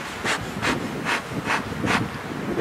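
Spring wind buffeting a microphone outdoors beside an open beehive, rumbling low gusts with a rhythmic series of about five soft rushing swells, close and fairly loud, no voices.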